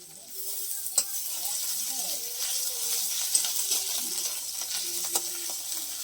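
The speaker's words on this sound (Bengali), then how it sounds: "মশলাটাকে একটু কষিয়ে নিচ্ছে" Ground spice paste with garlic and ginger paste sautés in a pan for an egg and potato curry, giving a continuous sizzling hiss with periodic stirring clacks as people talk nearby.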